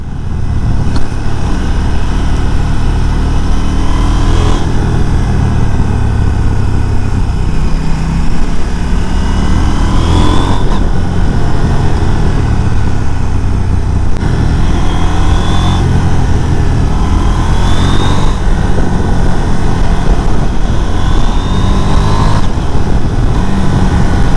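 An A2-licence motorcycle engine, loud and close, accelerating hard through a series of quick quickshifter upshifts, each rise in revs cut by a brief clipped shift with no pause for the clutch.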